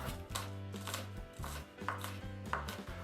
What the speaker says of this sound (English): So starting with the onion, I'm peeling it and dicing quite finely, at least as finely as my knife skills allow